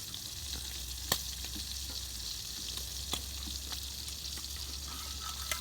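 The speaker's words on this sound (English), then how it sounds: "And I got a steak frying below." Steak sizzling in a hot pan, a steady close crackling hiss with occasional sharper pops and spits, no voices.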